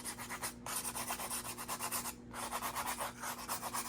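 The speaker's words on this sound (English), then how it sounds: "I'm just gonna go gentle with a little bit of sandpaper" Wood sanded by hand with sandpaper, gentle light strokes in a quick regular back-and-forth rhythm with two brief pauses, close and soft, no speech.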